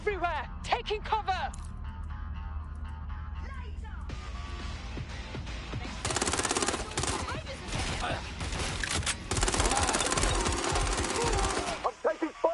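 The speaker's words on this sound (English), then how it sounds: "I'm taking fire here!" Gunfire crackles in Watch Dogs: Legion as sharp single shots give way to dense sustained automatic bursts, with a voice speaking in the middle of the firefight.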